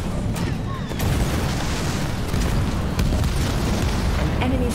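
In Halo Wars 2, a destroyed enemy structure produces a sustained, dense low rumble of explosions under continuous battle noise, steady and loud, with a few sharper pops on top.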